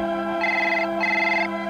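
A telephone ringing in two even bursts of trilling tone, loud and close, over a steady humming background, in a 1984 TV advert.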